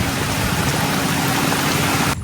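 Heavy rain pours down steadily on a small hut in hilly country, a dense continuous roar close by, then cuts off abruptly at the very end.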